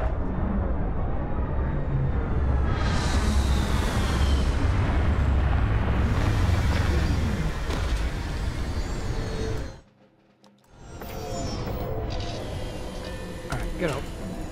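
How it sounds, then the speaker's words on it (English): Retro rockets fire during a video game landing as a loud, sustained roaring rumble that cuts out abruptly for a moment, then resumes a little quieter. "Landing struts primed, retros firing."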